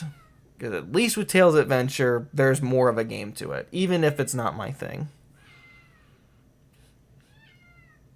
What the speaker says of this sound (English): And you can hear my cat in the background.